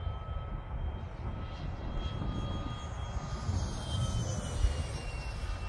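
A Freewing MiG-15 radio-controlled jet with a 64mm five-blade electric ducted fan makes a fast pass at full speed, a faint, airy whine with a steady rushing roar heard from a distance outdoors.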